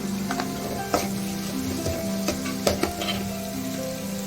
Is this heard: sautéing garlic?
yes